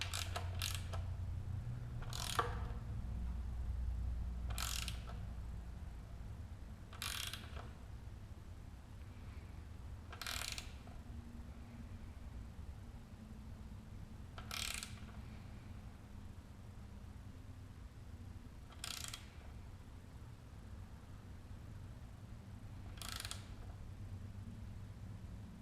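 A socket ratchet is worked on bolts during an LS engine swap into a Porsche 944, with a short burst of sharp clicks every few seconds over a low, steady background hum in a quiet garage.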